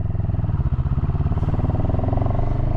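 CFMoto 700CL-X motorcycle pulling away from third gear, its engine pulsing loud and close with a steady throbbing rhythm that holds throughout.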